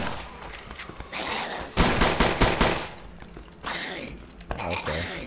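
Bursts of rapid automatic gunfire in the survival video game Survive The Nights, loud and close, with a dense volley in the middle and shorter bursts before and after.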